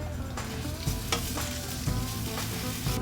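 Crushed ginger and garlic fry in hot oil in a pan, a loud, close sizzle with several sharp stirring scrapes and clatters at intervals and no talking.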